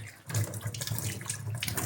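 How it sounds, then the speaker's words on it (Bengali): Tap water runs in a steady splashing stream as hands are washed, close and fairly loud for a couple of seconds, with no talk. "দাঁড়াও, হাতটা একটু ধুয়ে নি।"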